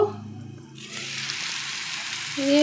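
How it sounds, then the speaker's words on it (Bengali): Steady hissing sizzle of flat beans and other vegetables frying in a hot pan, close and constant, with some low clatter early on and no talking. "সবজি ভাজা হয়ে গেছে"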